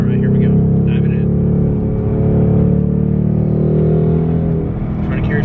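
A 2024 Ford Mustang GT's deep engine roars steadily and loudly close by, holding a strong rumble with slight swells in pitch as it pulls.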